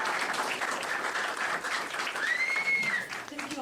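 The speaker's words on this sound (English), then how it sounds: "we want to give Miss Licciardi a big round of applause for putting this together today" An audience at a high school ceremony applauds the librarian with dense, continuous clapping, fairly close and loud, while a short whistle rises above it partway through.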